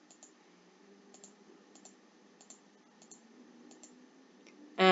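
A computer mouse clicking while working in statistics software: a run of about seven faint, crisp clicks at a fairly even pace over low background hum, ending in a sudden louder burst.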